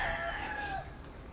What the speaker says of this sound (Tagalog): Oh, tumanok. Manok.